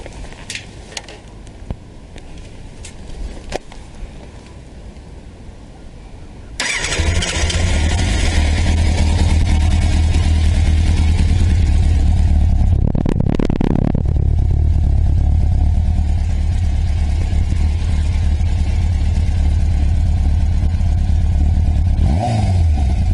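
A Yamaha FZ750 motorcycle engine, about 33 years old, starts after quiet ticking, then idles in neutral with a steady, loud, throbbing rumble, with one brief rev partway through.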